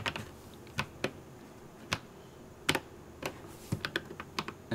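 Key presses on an RK 96s mechanical keyboard, heard as scattered crisp clicks, some single and some in quick clusters, close and fairly quiet, with no voices.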